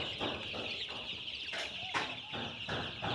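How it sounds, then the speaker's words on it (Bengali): Eight-day-old colour-bot (Sonali-type) chicks in a farm brooder chirp and peep continuously, a dense high chorus with a few brief louder calls, close by. "এই হলো আমার কালার বাট মুরগির বাচ্চার বয়স আজকে 8 দিন।"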